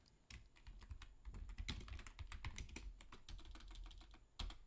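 Typing on a computer keyboard beside a Mac running the Preview app: a steady run of close, crisp key clicks for nearly five seconds, with a louder burst near the end.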